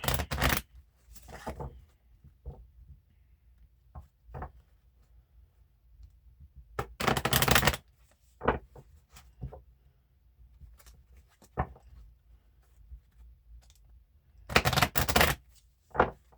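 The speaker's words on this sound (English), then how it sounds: "let's get a shuffle on these bad boys." Quick riffling bursts of playing cards being shuffled, several separate rounds with quiet pauses and small taps between them, close and clear.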